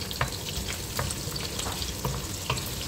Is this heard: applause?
no